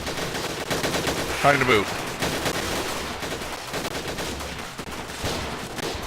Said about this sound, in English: I'm under heavy fire! Opening fire.